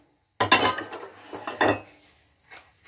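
Ceramic plates clatter and clink together a few times close by, with a softer knock at the end.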